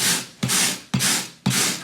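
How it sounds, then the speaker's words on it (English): Wire brush scraping carpet backing on a boat in four steady, even strokes, each a close, loud, gritty rasp that fades before the next begins. "The two tools that I've used are the good old wire brush."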